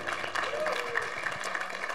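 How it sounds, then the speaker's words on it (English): A church congregation claps to welcome a pastor to the pulpit on a Sunday morning, moderately loud scattered applause mixed with indistinct voices and some background tones. "Let's give him a hand clap."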